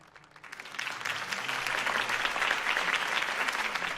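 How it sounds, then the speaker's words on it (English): Sustained applause from a crowd in the Batman Telltale video game, steady dense clapping that swells in and holds loud for several seconds, with no talking over it. "If only Mr. Wayne, my campaign's largest backer, could have heard that applause"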